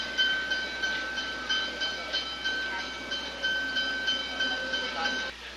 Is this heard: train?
yes